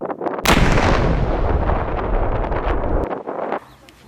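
A heavy, booming blast from a controlled detonation of munitions erupts and rolls on for about three seconds, loud and close, then cuts off into quieter rumble.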